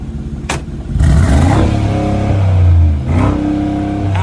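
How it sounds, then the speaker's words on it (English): A car engine revs up hard, falls back briefly, then surges again, a loud close-up roar with rising and falling pitch. "Revving your engine."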